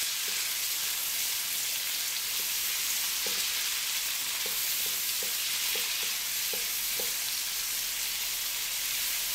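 Medium-sized onions, thinly sliced, fry in a pan with a steady, close hiss of sizzling oil and a few soft stirring taps throughout, with no talking.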